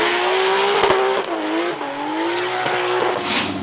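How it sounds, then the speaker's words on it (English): Volvo 740 drift car competing in the Scandinavian Drift Championship, its engine droning loud and steady with shifting pitch as revs rise and fall, tyres squealing throughout, close by and continuous. "Volvo 740."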